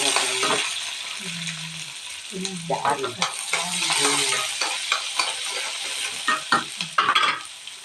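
Chopped onions sautéing in a pan for a pepper curry (milagu kuzhambu): a continuous close frying hiss with irregular clattering stirs and scrapes, and a faint voice briefly in the background.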